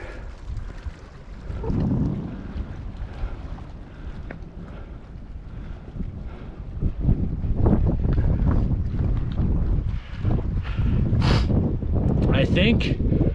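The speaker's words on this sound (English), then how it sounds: "because it's so windy" Strong wind buffets the microphone outdoors near a canyon and rock diving platform, a steady rushing roar with louder gusts building toward the end, with a person speaking over it at times.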